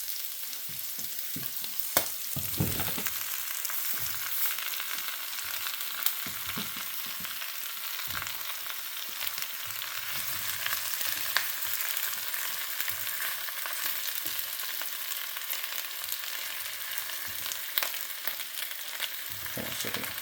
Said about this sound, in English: I've been frying these for a couple minutes